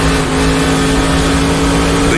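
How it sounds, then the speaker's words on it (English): A race car in NASCAR Racing 2003 roars loud and steady at speed, its tires beginning to break traction on the limit, a continuous engine drone with a faint scrubbing edge throughout. "You can just hear the tires begin to break traction"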